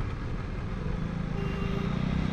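A BMW superbike engine rumbles low and fairly faint, holding a steady throb that swells slightly toward the end, with no voices over it.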